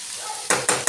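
Ivy gourd (tindora) cooking in oil for a tomato curry gives a soft, steady sizzle at first, then three loud bursts of stirring and scraping in the pan, close and without talk.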